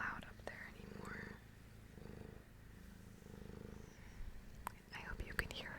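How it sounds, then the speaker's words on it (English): A cat purrs close up in soft, rhythmic rumbling pulses, one per breath, over a quiet room, with whispery sounds and a few sharp clicks near the end. "I hope you can hear her purrs."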